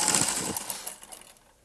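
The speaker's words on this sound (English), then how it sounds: "just keep sewing these on" Sewing machine stitching fabric squares together for a Hummer cozy, with a close, steady whirring drone that fades over the final half-second.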